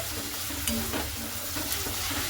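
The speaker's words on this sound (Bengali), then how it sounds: "চিংড়ি মাছগুলো দিয়ে একটু ভালো মতো করে আবার একটু নাড়াচাড়া করে নিতে হবে।" Shrimp being stirred in a hot oiled pan for a taro-stem curry, with a continuous close sizzle and a few soft scraping strokes of the spoon, no voices.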